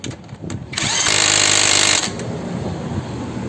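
A cordless impact wrench tightens a bolt, a loud hammering whir of about a second that spins up sharply, then fades into lower rattling and handling noise.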